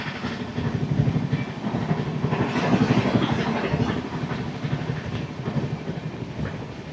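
The 12857 Tamralipta Express runs at about 125 km/h, heard from inside as a continuous loud rumble with rhythmic clickety-clack of wheels over rail joints.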